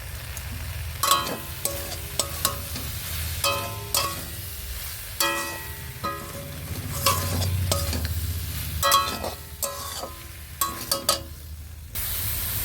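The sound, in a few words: stirring turmeric into jujube pickle in a pan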